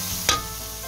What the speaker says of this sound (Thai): ใบกระเพราลำดับสุดท้ายท้ายสุดก็คั่วไป คั่วพี่น้องคั่วไปนะคะคั่วแห้งๆนะคะ